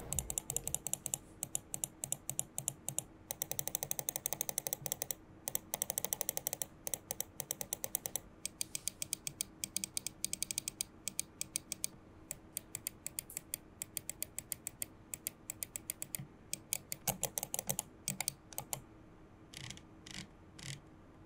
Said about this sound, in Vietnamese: bây giờ sẽ là cái phần sound test của mình cho anh em cùng nghe thử cái tiếng switch của nó nhá